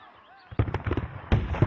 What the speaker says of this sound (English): The carnage from cannon fire was so great